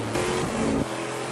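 An aluminum-block, titanium-valve V8 race car engine pushed to the limit during the 24-hour Petit Le Mans endurance race, a loud, dense roar with a shifting pitch, close by and continuous.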